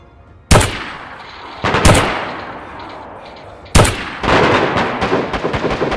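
Gunfire in the video game DayZ: loud, close bursts of shots, three separate volleys with trailing echo and a rapid rattling string at the end, with no talking.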